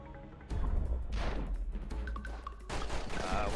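Gunfire from the PS2 game The Matrix: Path of Neo comes in dense, crackling bursts of shots and impacts over a rumbling game soundscape, with a few short electronic tones mixed in.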